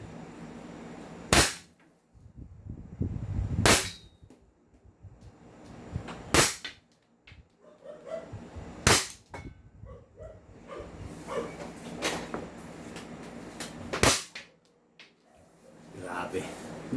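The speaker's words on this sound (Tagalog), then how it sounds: "Firing po tayo mga ka-airsoft." A ZionArms M4 airsoft gas blowback rifle fires six sharp, loud single shots at irregular intervals of a few seconds, with someone talking quietly between them.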